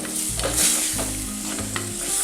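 Cooked green peas and potatoes stirred into hot spiced oil for a green pea curry produce a close, continuous sizzle with a spoon scraping the pan, and a low droning hum runs underneath.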